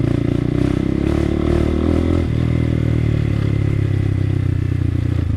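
Motorcycle engine droning loud and steady close by as the rider gasses it on the way to the RiverRock Waterfall, a harsh tonal roar with slight surges and clattering road noise underneath throughout.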